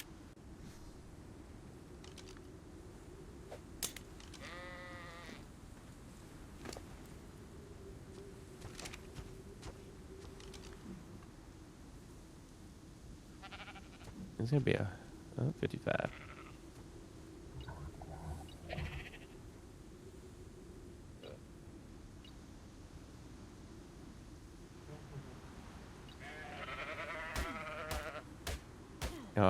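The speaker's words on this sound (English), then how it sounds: "Sheep." A sheep in the survival video game Ark: Fjordur gives a few scattered bleats, faint and spread out over a low steady game hum, while a person occasionally speaks.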